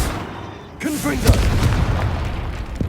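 A Confringo blasting spell going off in the Hogwarts Legacy video game, a sudden booming burst followed by a rumbling tail and crackle, loud and close, with faint game vocal sounds around it.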